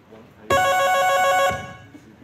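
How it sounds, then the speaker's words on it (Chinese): A telephone rings once with a bright, electronic bell tone lasting about a second, loud and close, in a comedic stage play set in an office. "看来有人在召唤我们嘞， 去接电话了吧？"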